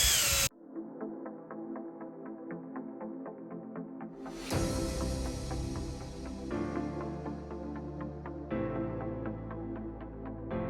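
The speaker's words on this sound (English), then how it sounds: "time to grab the drill and begin to polish" A power drill whirs steadily while polishing chrome exhaust tips, its motor pitch shifting as the load changes, close and continuous with faint rhythmic ticking throughout.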